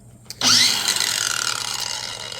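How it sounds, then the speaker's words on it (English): A SEESII brushless cordless angle grinder on its lowest speed spins up and runs a flap disc against 3/16-inch steel plate, a loud sustained whine with gritty grinding after a brief start. "we got some 3/16-inch plate here, and I'm gonna use a flap disc"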